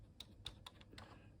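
Keys are typed on a Russian Master home computer keyboard with a numeric keypad: a few quiet, quick clacks in an irregular rhythm, faint against low background hum, with no voices.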